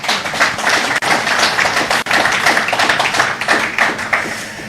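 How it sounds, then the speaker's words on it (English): An audience claps at a public launch of a national waste management strategy in Malawi, a loud, dense, continuous burst of many hands, close and sustained with two brief dips. "Please, let's clap your hands for him."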